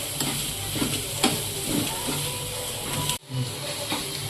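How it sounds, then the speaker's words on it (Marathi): Masala spices frying in hot oil for a paneer dish, a continuous hissing sizzle with periodic stirring scrapes and a brief drop partway through before the sizzle resumes. "आता मसाला चांगला परतलाय तेलात"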